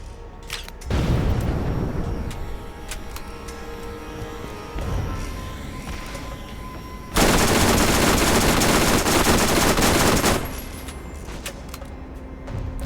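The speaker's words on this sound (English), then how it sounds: "Gonna switch up to our submachine gun heavy damage" Submachine gun fire in the video game Borderlands, loud rapid automatic bursts: one long burst near the start, a shorter one around the middle and a dense, heavy stretch late, with game ambience between.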